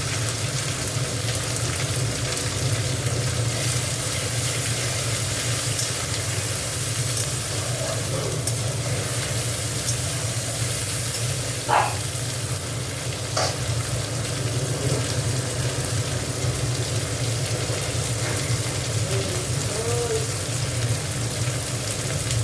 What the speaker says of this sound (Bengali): আদা মশলাটা একটুখানি ভালো করে কষে নেব।